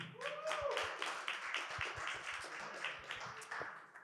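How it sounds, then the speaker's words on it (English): A conference panel audience at a Web3 event in Tallinn claps steadily, a dense patter of many hands at moderate distance lasting several seconds, with a voice speaking over the start. "So welcome and a big applause please for my guests."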